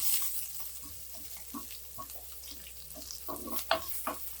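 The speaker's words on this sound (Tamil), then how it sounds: "வெங்காயம் கொஞ்சம் வதங்கட்டும்." Sliced big onions sautéing in a pan with fennel seeds for a curry gravy, a soft sizzle broken by scattered stirring scrapes and clicks, quiet and close with a sharper clatter near the end.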